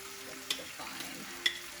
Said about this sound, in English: I'm just going to stir it a little bit